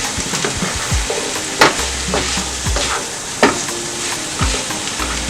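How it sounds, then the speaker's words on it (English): Dodo plantain frying in a pan with broccoli, a steady loud sizzle with occasional utensil clinks and stirring scrapes throughout, close up and without talk. "Finish cooking our dodo, frying our dodo."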